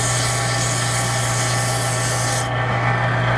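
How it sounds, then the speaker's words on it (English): A wooden pen spins on a lathe at about 1800 RPM while light sanding with the grain rubs it in a steady, close, continuous hiss over the lathe's hum. "So a quick little sanding then with the grain."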